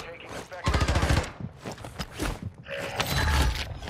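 Video game gunfire in rapid automatic bursts, loud and close, with short pauses between volleys and mechanical clatter over an otherwise busy scene.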